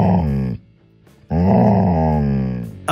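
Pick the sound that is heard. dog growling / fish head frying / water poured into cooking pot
dog growling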